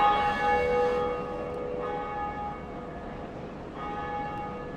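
Church bell tolling in the Dark Souls video game, sustained metallic ringing with long humming overtones that swell, fade slightly and return, fairly loud and alone.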